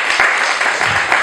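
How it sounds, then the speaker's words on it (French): Wedding guests applaud the newlyweds with a dense, steady wash of clapping from a large crowd, loud and continuous, with faint voices mixed underneath. "Je vais demander à ce qu'on vous applaudisse encore très fort"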